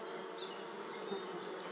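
Honey bees buzzing inside a hive, a dense and steady drone of many wings heard close up and without a break.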